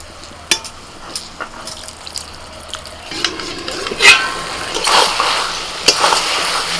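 Potatoes and onion greens fry in a wok with a soft, patchy sizzle that grows denser partway through, punctuated by a few sharp clinks and scrapes of stirring.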